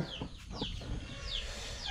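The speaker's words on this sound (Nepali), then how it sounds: "कुखुरा चाहिँ एउटा भागिरहेछ" A local chicken clucks and squawks as it runs off outdoors in a Nepali home yard during preparations for a household puja, with several short, fairly close calls over steady background noise.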